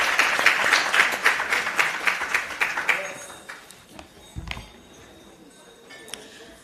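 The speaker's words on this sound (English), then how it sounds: "Please give her a warm round of applause." Audience applause for a speaker at the NEDLAC Annual Summit, a burst of clapping that fades over a few seconds into quiet room noise with faint clinks.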